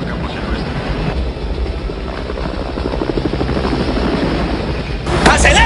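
An army helicopter flying overhead, a steady thudding rotor drone building slightly louder, with a burst of noise near the end.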